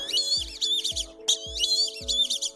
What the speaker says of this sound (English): These ducks, 2 whistling ducks,